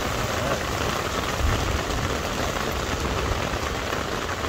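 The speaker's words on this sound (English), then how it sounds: "this rain's gonna put me to sleep." Heavy rain falls on a tent at night while a thunderstorm passes, a dense and steady wash of drops with no voices.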